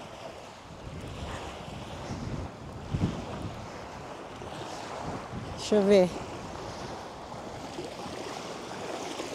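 Surf washing onto a small cold-water beach in Rhode Island mixes with gusting wind buffeting the microphone, a steady broad roar with a brief louder burst, while a person speaks briefly.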